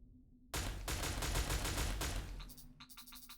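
A gun firing in the video game Aquametsis, a sudden loud burst of rapid automatic shots for about two seconds, then a few quieter clicking shots after it cuts off.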